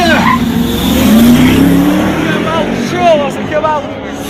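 Powerful Mercedes G-Class SUVs launch from a standstill with loud, close tire squeal and revving engines, the squeal rising and wavering over a roaring motor while voices sound in the background.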